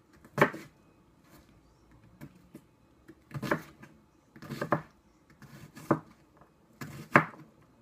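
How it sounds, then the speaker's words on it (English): Knife chopping onion on a cutting board in a home kitchen while making guacamole, with loud irregular clusters of chops separated by quiet pauses. "that's not the proper way of cutting onion"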